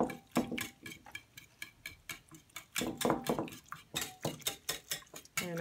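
A spoon working through a spinach and cream cheese tart filling in a bowl, a run of quick, regular clinking and scraping taps close by, fairly faint, with no talk.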